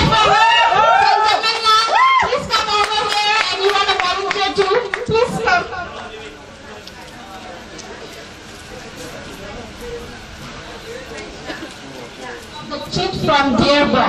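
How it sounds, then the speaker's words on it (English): Audience clapping at a school's tenth-year program truth-and-dare event, a dense patter of many hands mixed with children chattering and voices talking, with music playing at the start and end. "Clap for her."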